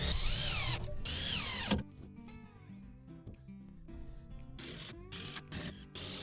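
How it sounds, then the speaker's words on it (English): A power drill drives screws into the wall framing of a wooden kids' playhouse, with two loud whirring bursts at the start and several shorter ones near the end, separated by quieter clicks and handling. "We'll throw a couple screws in here to prepare."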